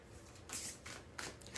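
Tarot cards being shuffled by hand, a few short papery riffles and flicks in close succession, quiet and close, with no speech.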